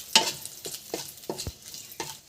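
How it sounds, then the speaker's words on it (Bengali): Whole cardamom and cinnamon sizzle in hot oil for a Bengali cauliflower and potato curry, with soft frying hiss punctuated by about six rhythmic scraping stirs of a utensil in the pan, close up. "একটু ছোট এলাচ দিয়ে দিলাম, একটু দারচিনি দিয়ে দিলাম, মানে গোটা গরম মশলা একটু দিয়ে দিলাম।"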